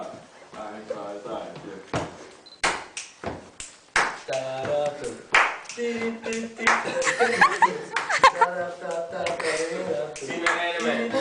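Hand clapping from a small group at an informal gathering, irregular bursts of claps mixed with laughter and lively talk throughout.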